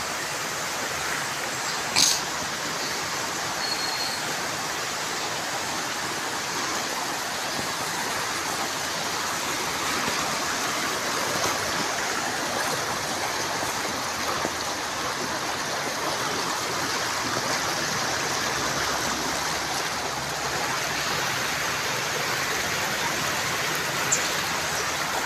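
A strong river current rushing beneath a bridge, a constant broadband roar of flowing water that holds steady and loud the whole time with no voices.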